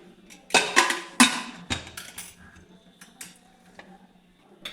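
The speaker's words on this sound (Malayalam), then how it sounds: "നമുക്ക് കുക്കർ അടയ്ക്കാം." A pressure cooker lid is shut over salted rice and water for kanji, giving a quick run of close metallic clanks and clicks, then a few lighter taps, with no voices.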